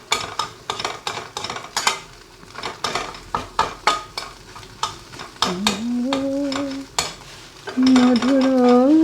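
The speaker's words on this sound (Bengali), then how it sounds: "এইভাবেই ভেজে আমি চাউয়ের সাথে এটাকে মিক্স করে দেবো" Egg fries in a pan for hakka chowmein, a soft sizzle under repeated sharp spatula scrapes and clinks against the metal, and a voice starts singing partway through.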